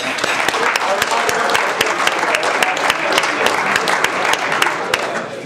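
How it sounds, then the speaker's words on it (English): Applause from the audience at a 100 Men Association gathering in University Park, Illinois, dense and steady for several seconds, with sharp claps standing out close by and a voice speaking over it. "And that you should applaud yourself for."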